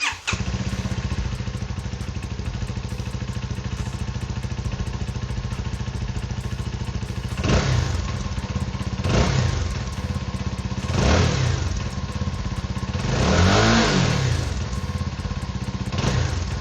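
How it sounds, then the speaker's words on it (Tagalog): A CFMoto 250NK motorcycle engine idles steadily up close, then is revved in four sharp blips that rise and fall, the last one longest, with no talk over it. "quick sound check of the bike"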